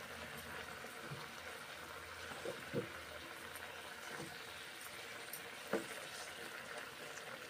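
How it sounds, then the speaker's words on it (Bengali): Water with whole green chillies simmers in a pot for dal, a soft, continuous bubbling hiss with occasional small pops, fairly faint and with no talking. "জল দিয়েছি, ফুটছে।"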